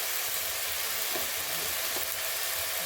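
Greens cooking in a pan after water is added, giving a loud, constant sizzle and hiss with a few soft stirring scrapes beneath it.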